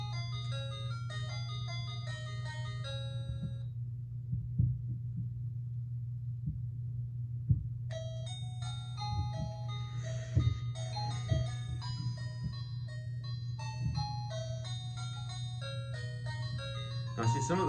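A KERUI burglar alarm plays electronic melody tunes, bright beeping synthetic notes in a nursery-style pattern over a constant low hum, pausing briefly before another song starts, with faint handling knocks.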